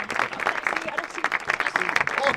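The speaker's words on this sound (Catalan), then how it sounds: "Un aplaudiment a la Míriam Riau, que ha vingut" An audience applauds a guest, Míriam Riau, at a live talk event: a close, lively round of clapping with uneven bursts lasting throughout, with a voice speaking faintly beneath it.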